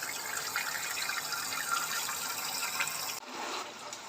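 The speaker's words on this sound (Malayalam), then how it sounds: "അത് നല്ല തണുത്ത വെള്ളത്തിൽ നന്നായിട്ട് കഴുകുക" Cold water from a tap pours steadily while chicken legs are washed, a close continuous splashing flow that briefly cuts out near the end before resuming more softly; no one speaks.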